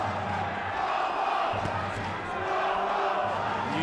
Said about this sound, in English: You start to hear the chants of Popo from the crowd